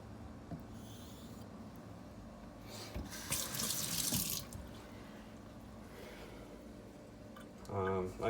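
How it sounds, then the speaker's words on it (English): A faucet trickles water onto a sharpening stone while honing a Boker Carbon Elite 3.0 straight razor, a faint running stream with a louder gush midway and a brief surge near the end. "I'll probably turn the faucet on and let it just slowly trickle onto the stone just to keep it wet."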